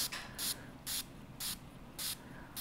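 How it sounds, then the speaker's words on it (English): Four short bursts of hissing mist from a spray bottle onto sifted enamel on a curved copper piece, evenly spaced and fairly close, with quiet pauses between them. "I'm going to spray off to the side."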